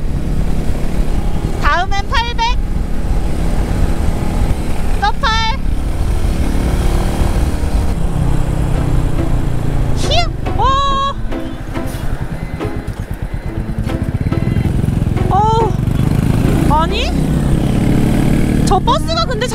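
A Royal Enfield 350cc motorcycle engine drones steadily throughout while riding, loud and continuous, with people talking over it in short bursts.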